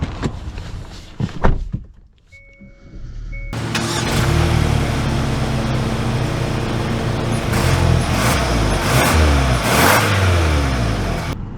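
A 2024 Hyundai Santa Cruz Limited pickup pulls away after a few near clicks and a short electronic chime: the engine settles into a steady, fairly loud drone with road and tyre noise, rising slightly as it gathers speed.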